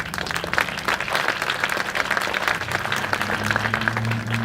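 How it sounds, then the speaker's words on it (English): A crowd at an outdoor bus rapid transit ribbon-cutting in Richmond bursts into sustained, dense applause, loud and steady throughout, with a low droning tone building underneath toward the end. "And that deserves a round of applause."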